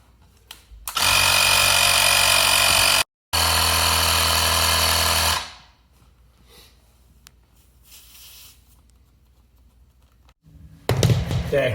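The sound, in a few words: electric pump inflating a scooter tire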